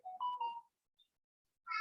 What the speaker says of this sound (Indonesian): Mohon maaf sebentar ada telepon ini.